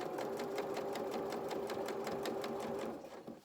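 Domestic sewing machine stitching a seam on children's shorts or dungarees, a rapid steady whirring run of needle strokes close up, with a brief reverse-stitch pass and slowing near the end.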